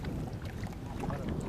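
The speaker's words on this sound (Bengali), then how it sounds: "আমাদের নৌকা এগিয়ে চলছে মেঘনার পূর্ব প্রান্ত ধরে।" A boat moves along the eastern edge of the Meghna river in Bangladesh on a fish-collecting run. Brief, low, continuous rumble with a wind-like wash and no voices.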